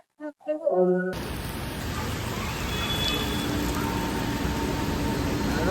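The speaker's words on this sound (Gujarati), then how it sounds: "વરસાદ ચાલુ છે" Rain pours steadily along a windy highway, a dense, even hiss that starts abruptly after a short burst of whistle-like tones and holds at a constant level to the end.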